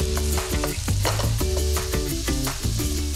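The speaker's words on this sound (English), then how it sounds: "And that beef is getting nice and brown." Ground beef frying with onions and garlic sizzles steadily in a pan, with repeated stirring scrapes and clacks throughout, heard close up under a music bed.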